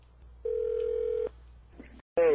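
A telephone rings once as a steady electronic tone lasting under a second, heard through a live radio call line before a voice briefly starts.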